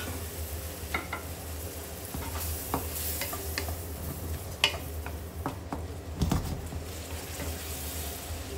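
Shrimp sautéing in a pan for pancit Bicol, a steady close sizzle with occasional scraping and tapping from stirring the pan.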